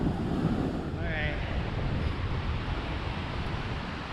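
Ocean surf crashing against shoreline rocks up close, a continuous heavy rush of churning water mixed with wind buffeting the microphone.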